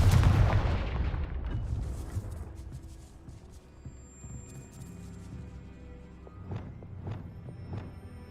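A Confringo fire-blast spell explodes in the Hogwarts Legacy video game with a loud, booming burst that rumbles away over a few seconds, followed by softer scattered thuds and footsteps.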